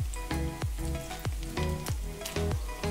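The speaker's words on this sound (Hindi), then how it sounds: "अब हम इसे पलटा के दूसरे साइड से भी फ्राई कर लेंगे।" Chicken and potato cutlets sizzle steadily in hot oil as they fry on the second side, with a continuous close crackle and soft periodic sputters every half second or so, no voices.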